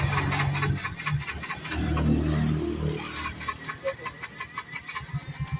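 A motorcycle engine fires up by push-button start, catching and revving roughly before settling into an uneven idle with pulsing exhaust, close by and without talk.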